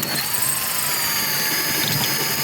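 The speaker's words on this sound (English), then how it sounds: "You just drill the rivet head off." A high-pitched power drill whines steadily and close up, drilling the head off a metal rivet on a donor car, with a constant buzzing tone and no pauses.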